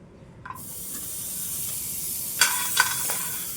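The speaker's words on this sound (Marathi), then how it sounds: "बदाम पण त्यामध्ये थोडेसे रोस्ट करून घेऊया" Almonds roasting in butter in a pan give a steady, close sizzle and hiss, with a few brief clinks or scrapes of stirring rising above it; no one speaks.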